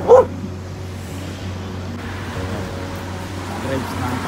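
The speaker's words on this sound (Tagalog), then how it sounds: "May aso." A dog gives one short, sharp bark close by outdoors, followed by street ambience with faint traffic, and a person talks afterward.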